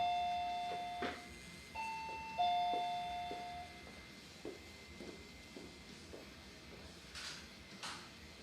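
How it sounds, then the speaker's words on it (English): A doorbell chimes a few times in a quiet indoor space during a live tattoo session, ringing tones with soft knocks and door clatter between them and no voices. "the doorbell's about to ring"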